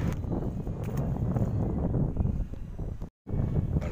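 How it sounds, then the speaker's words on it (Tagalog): Strong wind buffets a small boat on water during a fishing outing, a loud, continuous, rumbling gusty roar with rustling, briefly dropping out for a moment before resuming. "tayo po ay binabombahan ng hangin guys dito sa ating pwestuhan"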